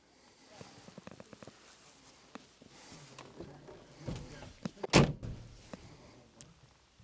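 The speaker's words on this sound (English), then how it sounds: "Door closes." An old car's door shuts with a solid thump near the middle, after some quiet rustling and handling sounds inside the vehicle.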